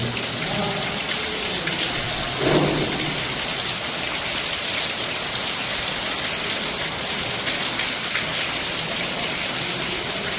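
Heavy rain pours steadily on a village house, a dense continuous hiss of drops beating on surfaces with no pause, loud and close throughout.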